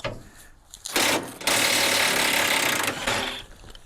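A ratcheting wrench works loudly on bolts of a Timberjack skidder engine, giving a sustained mechanical clicking and grinding burst after a brief quieter start, with no talk.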